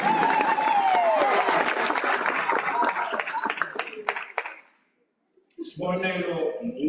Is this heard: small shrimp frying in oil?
no